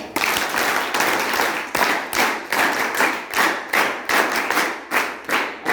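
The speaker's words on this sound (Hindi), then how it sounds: "इनको जोरदार तालियां हो" A school audience gives loud, rhythmic rounds of clapping at an event honouring a district coordinator and principal of a government senior secondary school. The clapping surges in repeated waves that stay steady for several seconds, close and full, with no talk over it.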